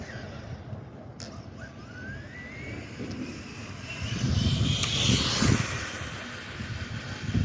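Kyosho Fazer MK2 1970 Charger RC car on a full-throttle speed run, a steady broadband whir building louder toward the middle as the car passes, with a rising whine and outdoor hiss throughout.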